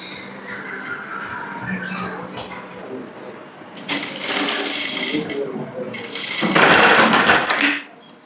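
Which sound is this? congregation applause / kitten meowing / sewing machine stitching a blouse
sewing machine stitching a blouse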